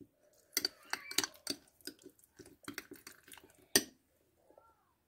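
Plain yogurt stirred in a small bowl for a rose petal face mask, giving soft wet squelching and clicking strokes in an uneven rhythm, close and fairly quiet, with a sharper clink near the end and no talk.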